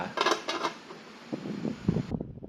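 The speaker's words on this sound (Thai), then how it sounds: "แล้วก็ปิดฝา" A metal lid clatters onto a cooking pot of simmering Thai pork-leg tom yum, with a few bright clinks of pot and metal, close and brief, followed by softer knocks as it settles.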